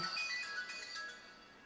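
Mobile phone ringtone chiming faintly indoors in a home studio, a brief melodic electronic pattern with no talk.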